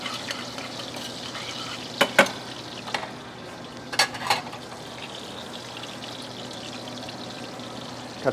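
Bacon sizzles and renders in a pan, a soft steady crackling hiss with a few sharper pops and clinks of utensils scattered through it, no talking.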